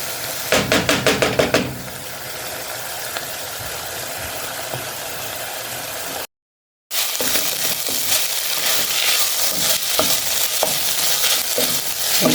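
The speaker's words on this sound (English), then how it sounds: "too much oil, so I'm constantly turning them so that they're not sticking in the pan" Vegetables sizzle in a pan with a little oil, a steady loud fry with stirring clatter at the start, a short break, and then the sizzle again as they are turned.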